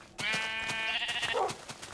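Sheep bleating in Minecraft, a single long wavering bleat that is loud and close, followed by a softer trailing cry and a few faint clicks.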